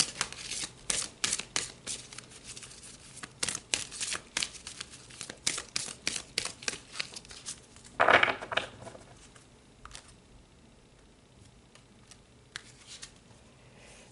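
Tarot cards are shuffled and handled up close in quick, papery riffles and flicks. A louder burst of shuffling comes near the middle before the rustling thins out into a few quiet taps and slides.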